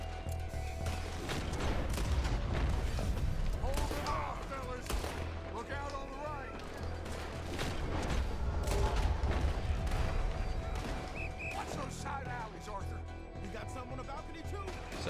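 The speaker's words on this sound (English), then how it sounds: "Now we get to do a drive-by. 1899 style." Drive-by gunfire from a moving trolley in Red Dead Redemption 2, set in a city in 1899, with repeated shots and bursts over rumbling motion, mixed with talk and game dialogue throughout.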